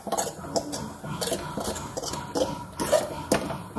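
A spoon scrapes and clinks against a pot as chili powder is stirred into a dish, giving steady close-up rhythmic scraping with scattered knocks and no talk.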